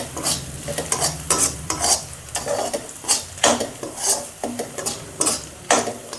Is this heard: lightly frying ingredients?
yes